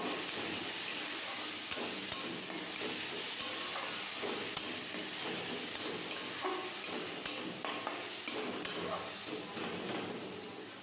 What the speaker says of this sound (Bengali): দিয়ে দিলাম গ্রেট করে রাখা আদা দিয়ে দিলাম পেঁয়াজের পেস্ট তারপরে দিয়ে দিলাম টমেটোর পেস্ট সবটাই ভালো করে কষিয়ে নিতে হবে